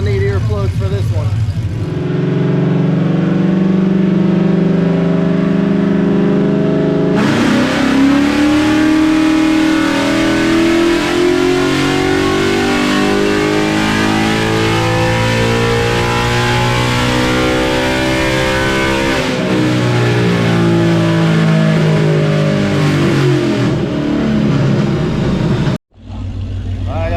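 A naturally aspirated Gen 3 Ford V8 on a dyno at a Ford meet revs hard and loud, climbing through sustained high-rpm pulls with a brief dip between them before cutting off abruptly near the end.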